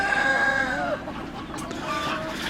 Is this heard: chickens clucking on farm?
yes